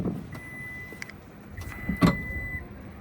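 The powered front trunk of a black 2023 Ford F-150 Lightning Platinum opens with a faint motor whir and light clicks, then a firmer clunk near the end, close by in a quiet setting.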